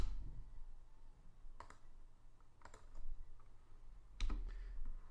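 Clicks and keystrokes on a computer keyboard during software installation on a Windows machine, a few sharp separate taps spaced through a quiet room, close and faint.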